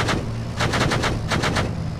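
Rapid bursts of automatic gunfire from the military video game Arma 3, loud and sharp, firing in quick clustered volleys over about two seconds.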